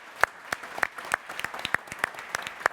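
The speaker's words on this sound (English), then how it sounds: "Big round of applause for our judges." An audience at a beverage industry live event claps for the judges, with sharp, evenly spaced claps from a small group, close and clear with no talking over them.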